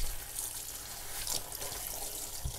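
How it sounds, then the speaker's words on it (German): Gloves being rinsed under running tap water after removing 3D-print support material, a soft steady stream with faint splashes and drips. "am Ende dann bitte auch die Handschuhe noch gut mit Wasser abspülen"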